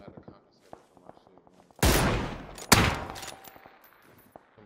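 Gunfire in PUBG: two loud sharp shots about a second apart ring out after quiet ticking and low chatter, followed by fading echoes and light clicks.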